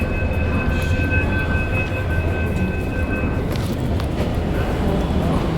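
Metro train running on a line in Mumbai heading toward Borivali, a loud steady rumble and rush with high whining tones throughout, heard from inside the carriage.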